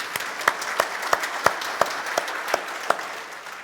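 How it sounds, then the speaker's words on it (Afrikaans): A church congregation claps for a boy turning seven, standing on a chair, with a steady rhythmic beat of sharp, evenly spaced claps over a soft wash of scattered applause, close and moderately loud. "Klap vir hom."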